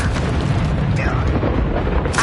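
An Incendio fire spell in a Harry Potter video game, heard as a dense, loud fiery roar and blast that fills the whole moment, mixed with other in-game combat noise.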